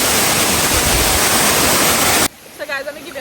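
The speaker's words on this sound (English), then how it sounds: "I'll stay in the flat and enjoy the water beating on me" Roaring waterfall at Mckenzie Waterfalls in Portland, Jamaica, loud and close as a dense wash of falling water, abruptly cutting to a quieter stretch with a voice speaking.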